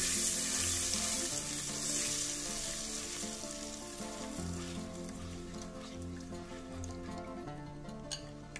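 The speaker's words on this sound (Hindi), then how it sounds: "अब इसमें हम दही डालेंगे और साथ ही से चलाते रहेंगे।" Yogurt being stirred into a spiced potato masala for Kashmiri dum aloo over a low flame, a continuous close sizzle with soft stirring and a faint hum underneath, no speech.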